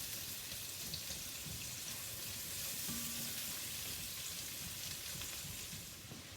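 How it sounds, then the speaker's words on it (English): Onions sliding into olive oil in a pan and frying, a continuous hissing sizzle with faint spatula stirring, steady and soft throughout. "I'm going to slide in my onions and get them translucent"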